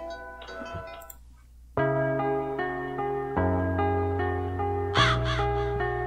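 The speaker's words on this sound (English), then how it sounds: "That bird, that crow or whatever, that be coming out of nowhere." Crow cawing over a music track: harsh, repeated caws in short bursts among the beats, loud and upfront throughout.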